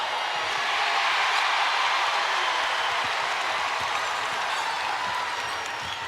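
Basketball arena crowd in Greenville cheering and applauding steadily during a Tennessee versus South Carolina women's SEC Championship game, a loud continuous roar of clapping and shouts.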